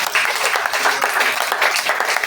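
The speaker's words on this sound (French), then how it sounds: "Est-ce qu'on peut acclamer le Seigneur?" Church congregation applauding the Lord, a dense, loud burst of many hands clapping together, steady and continuous throughout a short stretch.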